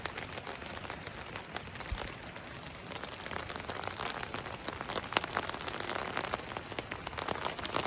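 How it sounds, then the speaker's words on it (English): Rain pattering steadily on a backpacking tent in a remote forest, a dense close hiss of drops drumming on the fabric that grows slightly heavier toward the end, with no voices. "the rain has hit us. It's bouncing off the tent."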